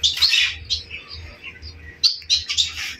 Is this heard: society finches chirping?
yes